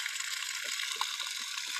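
Steady broadband rush of water pouring from a borewell dug in 1991, now fitted with a motor, a continuous splashing flow with faint bubbling, moderately close and unbroken throughout.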